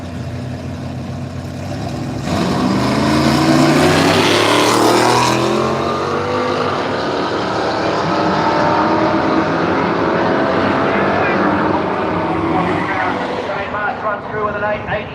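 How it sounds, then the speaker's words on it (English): A purple 1956 Ford F100 races a Pontiac GTO on a drag strip at Willowbank Raceway. A loud engine roar bursts in after a short pause and holds strong, while a commentator talks over it throughout. "Shane March again in the awesome purple F100. 56 model it is, up against Anthony Bloomfield in this big Pontiac GTO."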